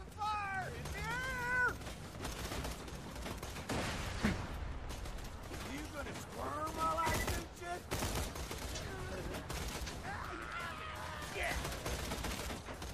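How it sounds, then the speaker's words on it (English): Burst gunfire and game effects from Borderlands 2 crackle in a dense, busy mix, with a player shouting over the action throughout. "This seems like burst fire."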